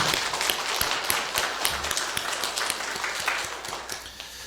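At a New Year's Eve church worship service, the congregation applauds the choir with dense, sustained clapping that fills the room steadily from start to finish.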